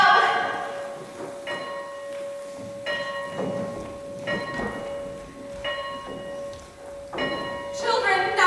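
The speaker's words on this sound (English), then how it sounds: "There's the first bell." A school bell sound effect rings during a stage play, striking again and again in a steady rhythm, each stroke leaving a sustained metallic hum over a soft, noisy background.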